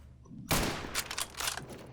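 A Mauser rifle fires in Return to Castle Wolfenstein: one sharp, loud report after a quiet start, followed by several fainter cracks and echoing rumble trailing off.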